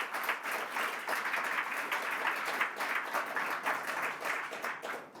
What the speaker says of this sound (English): I thought there was a clap beginning there